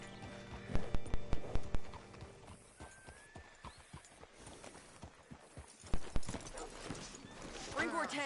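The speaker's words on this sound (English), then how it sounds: "Hitch your horse up here." Horse hooves clip-clopping in the video game Red Dead Redemption 2. Two bursts of quick, loud hoofbeats with a whinny between them, over background game sounds and talking.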